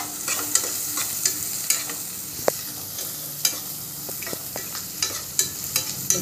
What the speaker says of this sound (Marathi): मग एक वेळेस आपण परतून घेतलं की त्यानंतर आपण आता लसूण टाकायचं